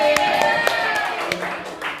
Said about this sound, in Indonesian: sekarang tepuk tangan untuk kalian semua